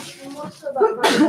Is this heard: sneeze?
yes